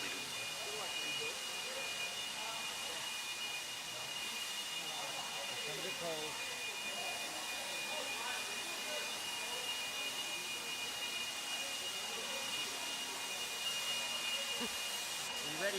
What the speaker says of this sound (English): Marshals, go grab those blowers. Start blowing off your areas.